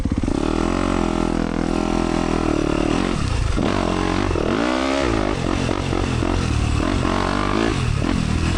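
A motorcycle engine at a team race runs loudly and continuously, its revs rising and falling close by with some clattering, and no speech.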